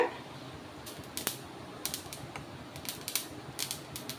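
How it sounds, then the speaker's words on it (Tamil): Sesame seeds dry roasting in a pan for ellu thuvaiyal, giving off faint, sharp, irregular popping crackles scattered over a soft background hiss, with no voices. "எள் நமக்கு நல்லா வறுந்து பொட்டி வருது"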